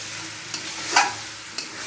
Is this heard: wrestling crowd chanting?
no